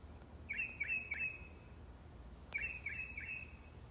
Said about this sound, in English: is it unsettling to hear birds chirping at 1 a.m.?